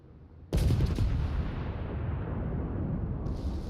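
A warship's guns fire at the battleship Tirpitz in a naval video game. One sudden loud boom is followed by a long, heavy rumbling tail that fades only slightly.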